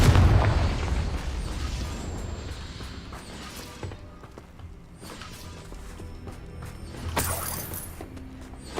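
A Confringo blasting spell goes off in Hogwarts Legacy, a dull booming burst with creaking debris and rumble, followed by a second crackling blast around the middle and a sharper pop later on, with no talk.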